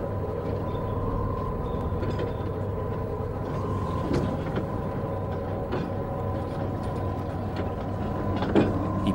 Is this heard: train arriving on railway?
yes